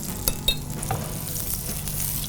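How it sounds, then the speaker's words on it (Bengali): Pieces of chicken for tikka malai kebab fry in butter, producing a steady sizzle with a few sharp clinks of a utensil stirring the pan. "এটা বাটার দিয়ে আমি এটা ভেজে নেব।"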